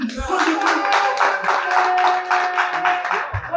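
An audience claps at a hotel gathering: a steady patter of hands, close and fairly loud, with a sustained tone running over it.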